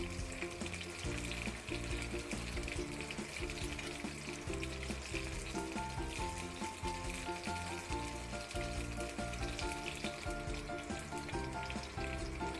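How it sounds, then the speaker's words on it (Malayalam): Raisins roast in a hot pan for laddu, giving a continuous close crackling sizzle with stirring scrapes and no talking. "കുറച്ച് കിസ്മിസ് ഇതുപോലെ റോസ്റ്റ് ചെയ്യണം"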